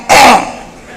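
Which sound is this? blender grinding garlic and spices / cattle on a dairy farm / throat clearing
throat clearing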